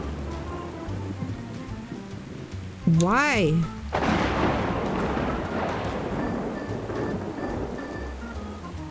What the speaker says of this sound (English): Why is it raining again?